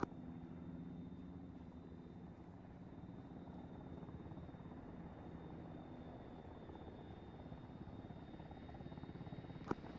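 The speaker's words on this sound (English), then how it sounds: "those helicopters sound fucking sick when they pass over" Helicopters in the Arma 3 military game pass overhead with a steady, faint rotor thrum that stays fairly even throughout, with no talking.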